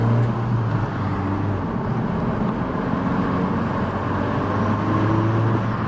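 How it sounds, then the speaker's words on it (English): A 2022 Honda Civic Si accelerating under throttle in sport mode, a steady, loud, droning engine and turbo sound heard from inside the cabin with no gaps. "turbo noises"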